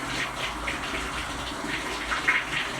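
Tap cold water pours steadily into a Whirlpool Load N Go smart top load washer as it fills, a soft continuous gushing and splashing with no talk.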